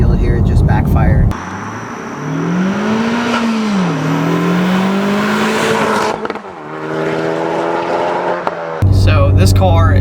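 Honda Civic Type R with a Miltech non-resonated exhaust accelerating hard, engine note climbing through gears with a brief dip and a shift, loud and close, with people talking before and after the pull.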